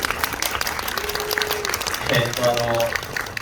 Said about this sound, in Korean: 감독님 큰 박수 좀 부탁드리겠습니다.